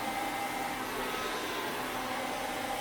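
A hair dryer runs steadily while straightening frizzy hair, with a constant loud whooshing hum and airflow noise, no pauses or voices.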